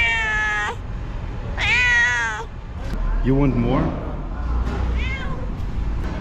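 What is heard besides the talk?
cat meowing while being fed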